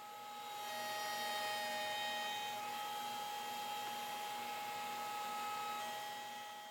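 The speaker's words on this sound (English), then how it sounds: "took them to my router table where I set up a large 3/4 inch radius roundover bit to make a thumbnail profile on the outside of the legs" A router table with a large 3/4 inch roundover bit cuts a thumbnail profile along white oak bench legs, a steady close whine with a faint high tonal hum throughout and no talking.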